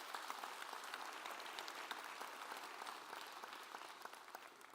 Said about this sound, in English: Yeah, that's worth applauding for.